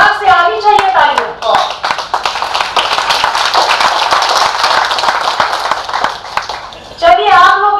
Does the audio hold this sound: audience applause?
yes